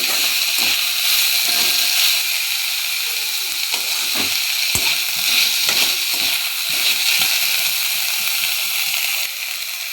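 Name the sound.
stirring fried bitter gourd into frying greens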